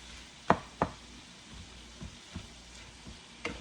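Ground meat cooking in melted butter in a pan for dirty rice, a soft steady sizzle with a few sharp clinks of a utensil pushing and crushing the meat, close by and with no talking.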